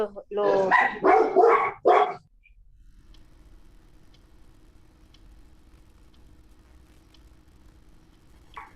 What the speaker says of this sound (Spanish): tengo una jauría de perros aquí